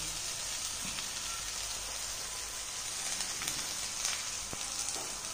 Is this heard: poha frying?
yes